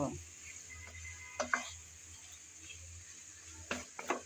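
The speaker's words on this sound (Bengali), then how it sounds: "নেড়ে চেড়ে ভালোভাবে একটু কষিয়ে নেব" Chicken wings fry with ginger garlic paste under a steady soft sizzle, while a spoon scrapes and stirs the pan in two short bursts.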